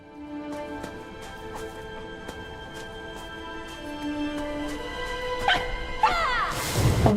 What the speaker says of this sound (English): did they tone down the sound of that fox dog